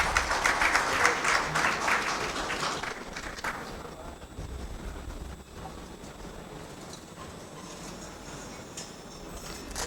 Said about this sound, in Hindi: आइए तालियों की गड़गड़ाहट से